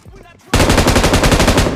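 An M249 light machine gun fires in the BGMI battle royale game, a loud, fast, unbroken burst of a dozen or more rapid shots that kicks in after a brief quieter moment.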